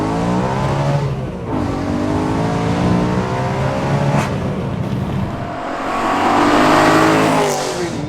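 A 449bhp BMW M3 saloon engine revs hard and loud and close, climbing through rising pitch sweeps, easing off, then surging again to a sustained high-rpm roar.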